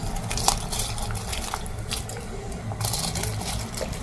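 Water runs steadily from a tap into a cooking pot for rice, a continuous splashing wash with a few small clinks, close and moderately loud.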